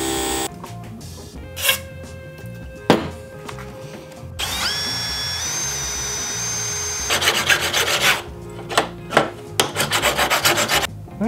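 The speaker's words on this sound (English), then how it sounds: "I can go ahead and drill them all out." A drill bores holes in aluminum, with short whirring bursts, rising whines and rough cutting chatter in several separate passes, loud and close with no talk.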